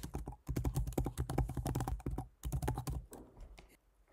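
Rapid, close keystrokes clatter on a computer keyboard as a password and email address are filled in, with quick bursts of typing broken by short pauses and no voices.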